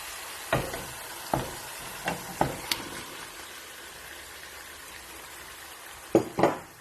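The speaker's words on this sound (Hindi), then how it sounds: "अब हम इसके अंदर डालेंगे अपनी मैरिनेट की हुई चिकन।" Marinated chicken dropped into masala in a hot pan for a creamy chicken tikka curry, giving a steady close sizzle with several sharp clattering stirs and pan knocks scattered through it, no talking.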